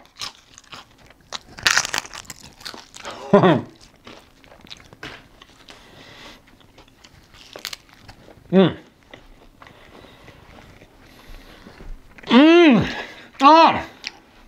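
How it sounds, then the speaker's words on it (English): Several crisp crunches of biting and chewing a crunchy low-carb flatbread wrap, close up, with quiet pauses and soft mouth sounds between bites. "Hear that crunch?"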